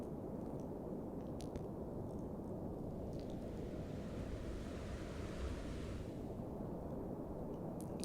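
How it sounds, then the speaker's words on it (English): Steady, loud rushing water from a rapid and waterfall on the Upper Wind River, a dense continuous roar with no breaks and no voices. "There's a super cool waterfall right there in front of me."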